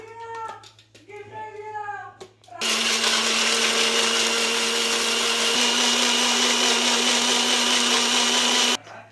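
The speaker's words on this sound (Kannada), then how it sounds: "ಅಮ್ಮ ಈಗ ಬ್ಲೆಂಡರಲ್ಲಿ ಇದು ತೆಂಗಿನಕಾಯಿ ಹಾಕಿದ್ದಾರೆ, ಈಗ ಹಾಕ್ತಿದ್ದಾರೆ. ನುಣ್ಣಗೆ ರುಬ್ಕೊಂಡ್ಬಿಡೋಣ ಇದನ್ನು." A kitchen blender grinds coconut, a loud steady whirring motor roar that starts abruptly after a few seconds of quiet kitchen sounds and short voice bits, then runs evenly to the end.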